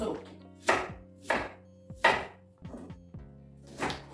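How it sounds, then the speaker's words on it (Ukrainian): A knife chopping a peeled onion on a board, five crisp, firm strokes at an uneven pace, close and clear. "цибулька почищена і потрібно так нарізати, щоб теж вона у горловину влізла"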